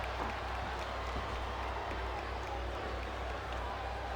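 Steady roar of a capacity arena crowd in a wrestling video game, a constant dense murmur with faint scattered claps, continuous and unbroken from start to end.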